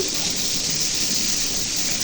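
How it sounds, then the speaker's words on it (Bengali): Water poured into a hot pan of fried hilsa fish sets off a loud, continuous sizzling hiss that stays dense and close throughout. "এখন এই জল দিয়ে দিতেছি"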